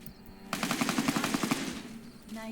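Rapid bursts of automatic gunfire from a fight in the Fallout: New Vegas video game, a string of evenly spaced, fairly loud shots lasting about a second before fading into a low background hum.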